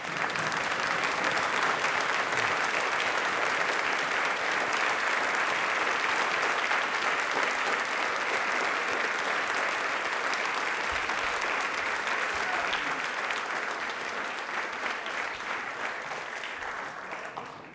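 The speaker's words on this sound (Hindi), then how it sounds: "आप लोगों से गुजारिश है खड़े हो जाएं और उनके लिए जोरों से शोरों से एक बार तालियां बजा दीजिए प्लीज।" A standing audience at a Rajasthan TV quiz show claps loudly and continuously in honour of Dr. Bhimrao Ambedkar, a thick, sustained wash of many hands that holds steady for a long stretch before tapering at the close.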